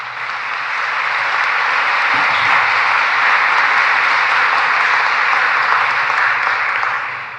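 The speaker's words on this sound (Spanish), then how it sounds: "vamos a darle un fuerte aplauso al Señor" A congregation applauding during Mass, a loud, sustained wall of clapping that swells in quickly, holds evenly and tapers off at the end.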